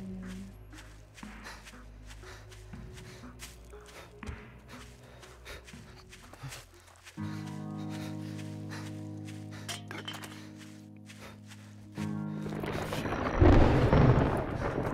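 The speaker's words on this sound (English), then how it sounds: "Ooh, listen to that thunder. That was loud," Loud rolling thunder in the video game 7 Days to Die, a deep low rumble that swells and sustains, then builds to a heavier crashing burst near the end, layered over game ambience and footsteps.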